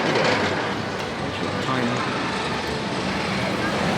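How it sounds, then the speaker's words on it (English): The Hollywood Rip Ride Rockit roller coaster at Universal Orlando rattles along its track in a dense, continuous clatter and rush of wind, with riders' voices mixed in. "It's just a bit of a rattly one."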